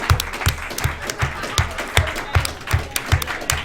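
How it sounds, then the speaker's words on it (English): Applause greets the UCL and KCL players entering a varsity League of Legends match, clapping mixed with rhythmic low thumps like stamping or a beat and some crowd noise. "a big round of applause for our players coming in now"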